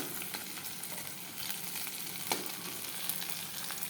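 Spices and a bay leaf fry in hot oil with a steady, bright sizzle, close and continuous, broken by a few brief sharp crackles and stirring scrapes, with no voices.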